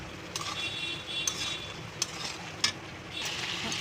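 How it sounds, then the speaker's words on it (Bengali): Cauliflower and potatoes frying in a pan while being stirred, with a steady low sizzle under light scraping and a few sharp clicks of a utensil against the pan. "ফুলকপি আলু দিয়ে ভালো করে নাড়াচাড়া দিয়ে নিয়েছি"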